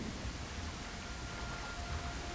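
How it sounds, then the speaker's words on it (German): Heavy rain pours at night in a dinosaur survival video game, a thick, steady wash of noise with a low rumbling undertone, continuous and fairly quiet, with no talk. "Mittlerweile ist jetzt auch tiefste Nacht und es ist auch richtig am Gießen."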